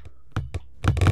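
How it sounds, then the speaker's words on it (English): Bounce sound effects from an object in Unreal Engine, a few close dull thuds and cracks that pile up into a dense, glitchy overlapping clatter at the end. "played a load of sound effects at once"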